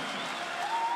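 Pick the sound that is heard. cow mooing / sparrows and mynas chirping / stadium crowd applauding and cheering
stadium crowd applauding and cheering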